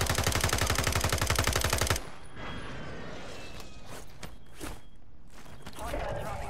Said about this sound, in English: Where are these dudes shooting us from?